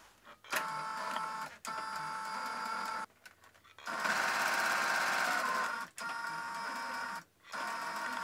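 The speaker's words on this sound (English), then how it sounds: "You'll have to play around with the settings on your sewing machine to make sure you're getting the best finish." A sewing machine stitches the final seam of a fabric scrunchie, running in steady mechanical bursts that stop and restart several times, close and clear with no talking.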